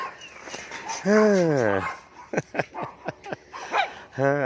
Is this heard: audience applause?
no